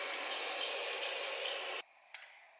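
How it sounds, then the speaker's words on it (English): A loud, close, continuous spray blasts metal shavings off small engine parts, a tensioner and spring from a CRF50 88cc big bore kit, then cuts off abruptly, followed by a faint brief hiss. "So we'll spray these two off."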